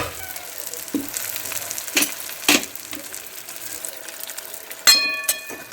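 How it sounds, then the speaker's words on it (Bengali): Eggplant fries with onion in fish oil and neem leaves, a constant close sizzle broken by several sharp clinks and scrapes of a spatula and a brief metallic ring near the end. "মিশিয়ে নিয়ে তারপরে ঢাকা চাপা দিয়ে এটাকে আমি ভালো করে ভেজে নেবো।"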